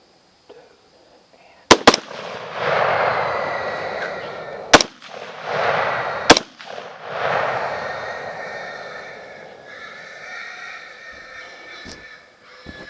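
Three sharp, loud 6.5 Creedmoor rifle shots fired at a sounder of hogs during a Texas hog hunt, spaced a few seconds apart, each followed by a long rolling echo, with faint voices in the background.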